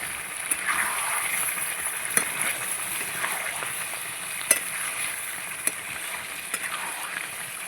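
Chicken cooking in rendered goat fat with no added oil, being stirred in a pan: a loud continuous sizzle with periodic sharp spatula clacks against the metal.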